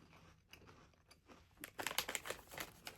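Someone bites into a crunchy biscuit snack with a creamy vanilla filling, then chews it, giving a burst of close, rapid crunches that are faint but distinct.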